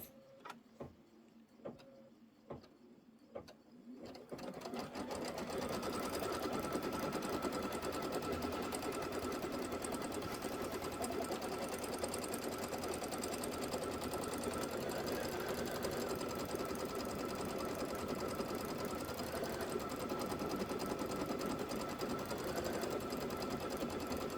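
An embroidery machine stitches a lattice crest design on a pillow project, starting with a few sparse clicks, then settling into a steady, continuous rapid mechanical chatter and hum that runs on evenly.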